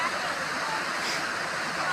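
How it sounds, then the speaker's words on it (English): Small waterfall at a zoo gives off a steady, even rush of falling water, close and continuous with no pauses. "And here you have like a little waterfall going on"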